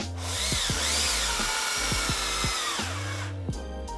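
A power drill whines in bursts as it drives screws during a differential build, the motor pitch rising and dropping with each short pull of the trigger, close and loud with no talking.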